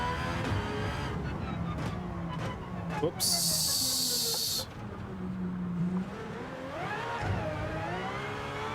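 Race car engine in Gran Turismo 7, a steady droning roar with shifting pitch as the car speeds up and slows, heard under a person talking, with a brief burst of hissing noise partway through.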